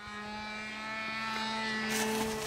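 A radio-controlled model airplane coming in to land, its small propeller engine whining steadily with a rising pitch, heard at moderate distance outdoors without talk.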